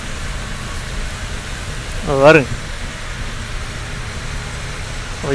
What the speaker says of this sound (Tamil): எந்த அளவுக்கு மழை பெஞ்சிக்கிட்டு இருக்குன்னு பாருங்கள் இன்னும் மழை நிக்கல